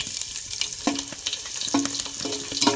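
Mustard seeds, cumin, asafoetida and garlic cloves hit hot oil for a Maharashtrian tempering, giving a steady, fairly loud sizzle with crackling pops and brief stirring knocks throughout.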